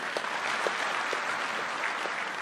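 An audience at a public event at Bomas of Kenya claps steadily for a couple of seconds, a dense, even patter of many hands heard at moderate distance without clear speech.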